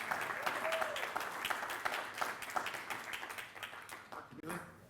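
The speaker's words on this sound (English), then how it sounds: "Let's give him a round of applause." An audience in a large room at a symposium applauds steadily, a dense patter of clapping that holds fairly even for about five seconds before thinning near the end.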